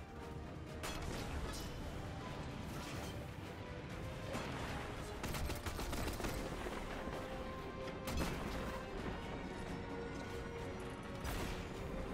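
A tank blows up in Destiny 2 amid a dense, rumbling barrage of crashes, impacts and gunfire, continuous and fairly quiet, with sharp blasts rising out of the din.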